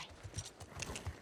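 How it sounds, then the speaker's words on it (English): Horses are led out of stables in The Last of Us Part II, hooves clip-clopping in a soft, uneven walking rhythm with a faint whinny, heard close and alone. "Ellie and Dina lead 2 horses out of the stables."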